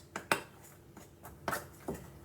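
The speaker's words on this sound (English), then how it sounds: "You mix with a knife, especially when you're making bread." A knife stirs bread dough in a mixing bowl, giving a handful of soft, irregular clinks and scrapes against the bowl, spaced out over a couple of seconds.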